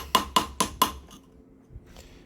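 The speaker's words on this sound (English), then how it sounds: "Let's go ahead and put it back in with a few more hits of the chisel." Four evenly spaced, sharp hammer blows strike a metal chisel cutting number grooves into a stone paver for a disc golf teepad, followed by a faint tap. The strikes are close and loud, with nothing else heard.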